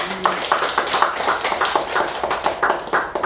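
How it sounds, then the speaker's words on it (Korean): A congregation claps during a church sermon, producing a dense, lively round of many hands over about three seconds, steady and fairly loud throughout. "그 안에 예수님께 박수의 영광 올려드립시다."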